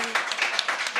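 Radio comedy show audience voting with a burst of applause and cheering, a brief bright wash of claps and whoops at moderate distance.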